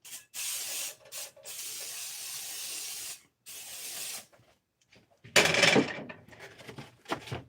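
Eggs cooking in a pan, a hissing sizzle that comes in long bursts broken by short gaps, with a louder, rougher flare of frying near the end, close and without speech.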